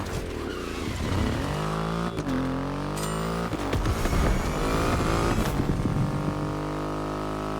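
A Triumph motorcycle with a 2.5-liter engine in The Crew Motorfest, its engine droning steadily and rising in pitch as it revs and accelerates, loud and close throughout with no talk.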